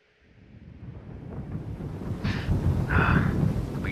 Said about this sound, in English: Beat the storm.